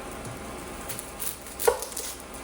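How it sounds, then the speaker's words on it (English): A knife roughly slices an onion on a cutting board in a home kitchen, giving soft, quiet cutting sounds with one sharper, crisp chop partway through. "slice the onion really quick"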